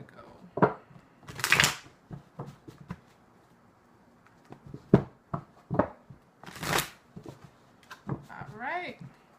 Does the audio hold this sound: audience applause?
no